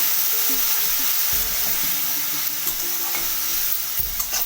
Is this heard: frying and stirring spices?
yes